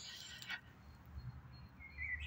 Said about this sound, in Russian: слушаю пение птиц и радуюсь жизни